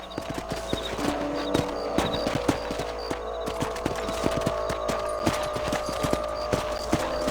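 A horse gallops in Red Dead Redemption with steady, rapid hoof clip-clops, close and continuous throughout, under a faint ambient game backdrop.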